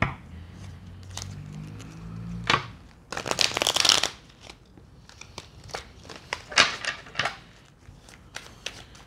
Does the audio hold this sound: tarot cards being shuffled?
yes